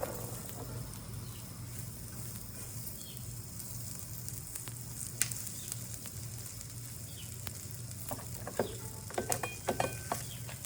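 Onions sizzle on a hot flat iron griddle, a steady close hiss lasting throughout with a low hum beneath, and a few sharp scrapes and clicks toward the end.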